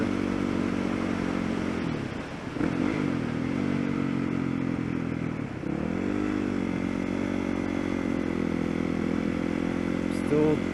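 A motorcycle riding a curvy mountain road with sharp drops, engine droning steadily up close with pitch dips and rises through the turns, plus wind buffeting the microphone.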